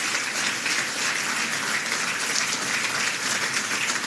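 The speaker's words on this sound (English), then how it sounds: "let's give another round of applause to the 2016 Republican Lawyer of the Year" Audience applause at a Republican National Lawyers Association event, a continuous, even roar of many hands clapping that stays loud and uniform from start to finish.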